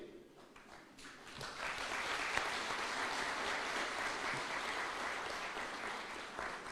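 Applause from an audience at a 20th anniversary celebration honoring members of Parliament, swelling after a second into steady, sustained clapping that fills the hall.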